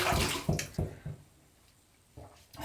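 Tap water runs in short bursts while a vintage Gillette travel razor is rinsed after shaving, with several splashy pulses up close, a quieter lull, then the flow resumes near the end.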